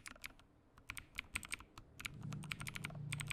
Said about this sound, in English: Don't mind the guy typing under my nose.